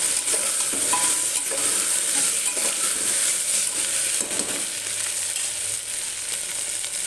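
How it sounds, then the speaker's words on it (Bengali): Pumpkin, taro and potato pieces fry together in a pan on high flame, giving a steady, close hiss of hot oil with light stirring scrapes throughout and no voices. "একটু গ্যাসটাকে একদম হাই ফ্লেম করে তিনটে একসাথে ভাজা ভাজা করে নেব"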